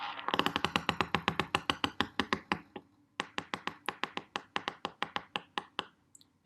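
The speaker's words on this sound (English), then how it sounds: "it's just one stroke of the comb along the bars of the dish rack" A comb stroked along the bars of a dish rack gives two long runs of rapid, evenly spaced clicks, the first fast and dense, the second slower and crisper, then ends with a single tap on the table.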